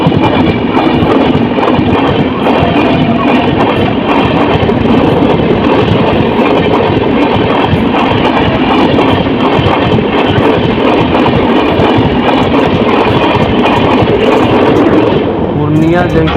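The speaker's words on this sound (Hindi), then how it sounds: "हॉल्ट के बाद अपनी ट्रेन का डिपार्चर हो चुका अपनी अररिया रेलवे स्टेशन से।" An Intercity Express train pulls out of Araria railway station, heard from inside a general coach as a loud, continuous rumble with rhythmic clickety-clack of wheels over rail joints throughout.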